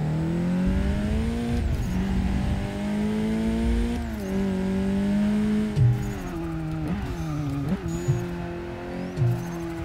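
A car engine, a Volkswagen R or an Audi RS3, hums and rises in pitch while driving and cornering, with several shifts in engine note and brief thumps along the way.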